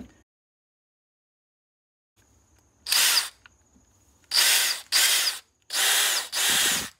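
A DeWALT cordless drill runs at speed one in five short bursts of whirring motor, with pauses between them.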